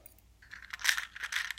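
A small metal paper clip from an assessment kit is handled up close, giving a run of light metallic clicks and jingles that grow busier over a short moment.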